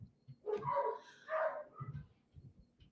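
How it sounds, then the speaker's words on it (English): Dogs bark from somewhere above in a house, a few muffled, moderately distant yaps and woofs in quick succession, with no talking. "my dogs are going crazy up there"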